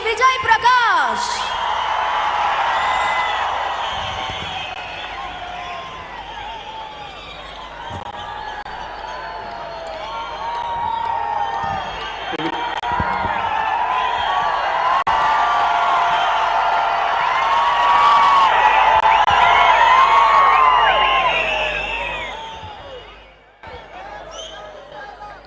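Loud, sustained crowd of applause and cheering with whoops filling a large venue as a singer walks on stage at the Karnataka Ratna award ceremony for Kannada Rajyotsava, swelling steadily for over twenty seconds before fading out.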